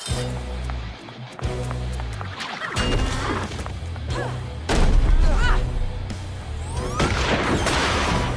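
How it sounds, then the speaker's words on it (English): A grenade launcher fires in the RWBY animated series, amid dense crashing impacts, booms and whooshing action effects. Voices talk over the clamour throughout. "A grenade launcher."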